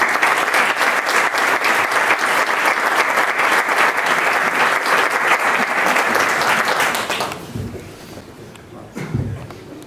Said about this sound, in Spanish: pido ya el primer aplauso de la tarde